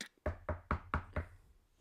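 Five firm knuckle knocks on a hard surface, evenly spaced in a quick rhythm, close and clear, each hollow thud ringing briefly before silence.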